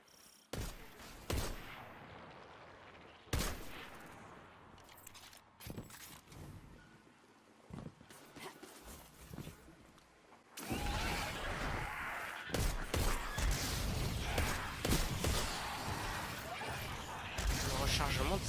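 Gunfire from a weapon in the video game Destiny 2, starting with sparse loud shots separated by gaps and building into dense, continuous bursts of firing and impacts in the second half, with talk mixed in.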